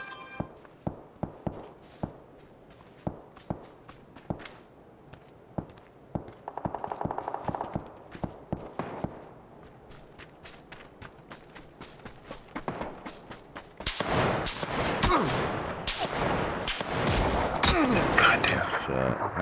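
Gunfire in PUBG: a series of sharp, separate shots at an uneven pace gives way to a dense, louder stretch of rapid firing and noisy action near the end.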